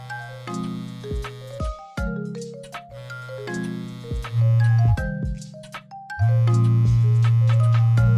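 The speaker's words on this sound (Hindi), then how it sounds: "क्लाइंट का फोन है, शांत हो जाओ।" A phone ringtone plays a loud, bright electronic melody of repeated stepped tones, continuous and close with no talking over it.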